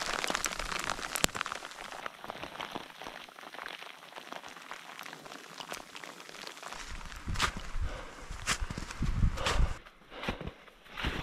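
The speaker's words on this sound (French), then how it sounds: "Là, on est rendu avec un mélange de pluie et de grésil." Rain and sleet patter steadily on surfaces nearby on a mountain hiking trail in the Adirondacks, with scattered sharper taps and a few crunching steps over the soft hiss.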